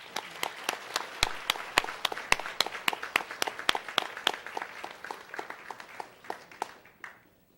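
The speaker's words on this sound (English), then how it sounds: "Please now join me in giving our 2021 scholarship recipients a round of applause" Applause for 2021 scholarship recipients at an early college awards ceremony, a modest group of distinct, rhythmic claps close by that thin out and fade to quiet near the end.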